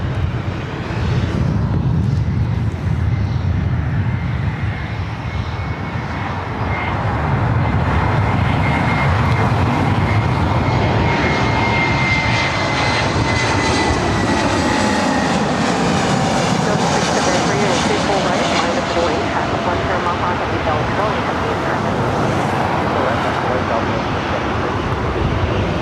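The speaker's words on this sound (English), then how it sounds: "Nashville up next for takeoff here on the north side." An airliner taking off on the north side of LAX airport, its engines making a loud, sustained roar and whine that builds and holds for the whole stretch, close and powerful.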